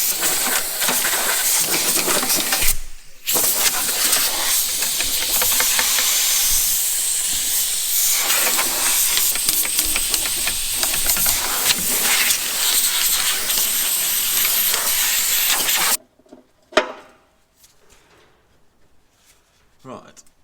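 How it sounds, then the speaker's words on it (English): Compressed air blasts steadily through a John Deere tractor radiator, a loud broad hiss lasting many seconds with a brief break, then cutting off abruptly to near quiet. "I need to blow out the radiator next."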